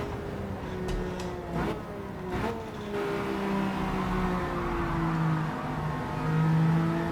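A nimble race car laps a track in Gran Turismo 7, its engine a steady moderate drone that rises and falls through corners and shifts, with a few brief sharp clicks early on.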